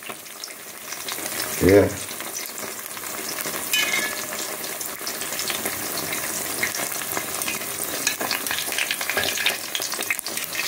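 Jamaican Spanish fritters frying in hot oil in a pan and being turned, a continuous loud sizzle with clattering as they are flipped and a brief word spoken.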